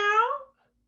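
A single human voice imitating a cat's meow, a drawn-out wavering cry close and clear that fades out after about half a second, followed by silence.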